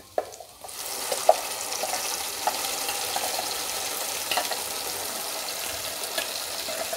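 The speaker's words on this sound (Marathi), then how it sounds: "आणि आता छानपैकी याला परतून घेऊया" Ground masala paste for a paneer gravy is sautéed in a pan, giving a steady close sizzle with soft scraping stirs and a few light clicks of a spoon, starting after a brief quieter moment.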